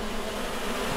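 Honey bees robbing an open hive make a dense, continuous buzzing drone, close and steady, with no other sounds.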